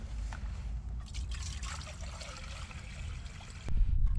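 Water trickles and pours into a pot for boiling on a camping gas stove in a forest, a quiet, continuous stream close by, with a heavier thump near the end.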